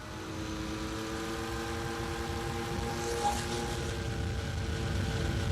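Droning engine of a historic long-distance propeller airplane, the first to fly nonstop from England to Australia; a steady, car-like hum with layered tonal harmonics, constant and close, with a brief faint whine midway.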